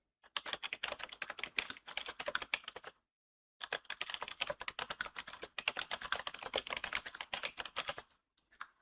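Fast, continuous clatter of a computer keyboard being typed on close by, with a short pause partway through before the keystrokes resume and then trail off near the end.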